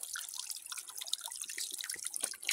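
Water trickles and drips into a container being filled from an open tap near an outdoor well, a faint, close patter of irregular drops and splashes with no talking.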